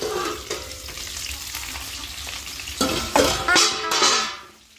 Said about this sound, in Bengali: এখন বসিয়েছি ফুলকপি ভাজা, আলু ফুলকপি দিয়ে মাছের ঝোল করব।